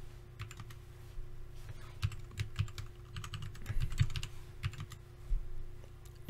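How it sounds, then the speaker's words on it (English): A password being typed on a computer keyboard, a quick, uneven run of close key clicks and taps over soft background hum, with no voices. "open up a new WinSCP, and reconnect, and then type my password in"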